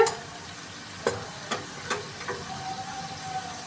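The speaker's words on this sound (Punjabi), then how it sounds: "ਟਮਾਟਰ ਆਪਣਾ ਪੱਕ ਗਿਆ ਇਹਨੇ ਸਾਡਾ ਤੋਂ ਤੇਲ ਛੱਡਤਾ ਤੇ ਹੁਣ ਪਾਉਨੇ ਆ ਜੀ ਆਪਾਂ ਇਹਦੇ ਵਿੱਚ ਮਸਾਲੇ" Tomato masala cooking in oil in a pan, a soft steady sizzle broken by several distinct scrapes and taps of a spoon as spices are stirred in, close and fairly quiet with no talking.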